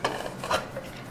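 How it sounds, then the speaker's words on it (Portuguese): A metal pressure cooker lid is opened after releasing pressure, with close scraping and clinking of metal on the pot in a short rubbing burst, cooked canjica inside. "Já saiu a pressão da panela e agora eu vou abrir para você ver."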